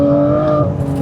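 A loud, steady V12 engine drone from an Aston Martin Vanquish, with a strong tonal hum and exhaust tone, held briefly at high revs.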